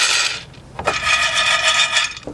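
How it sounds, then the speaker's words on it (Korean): Pine nuts tipped into a container for basil pesto rattle and rub against the surface in a close, fairly loud scattering patter, with a brief clink partway through. "그래서 잣은 한 반 컵 정도만 넣겠습니다"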